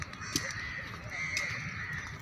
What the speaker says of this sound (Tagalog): Guys, ito daming uwak dito,